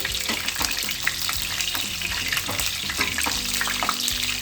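Stuffed brinjal fries in oil with a steady, close sizzle and crackle, joined by occasional stirring scrapes and clinks and no voices.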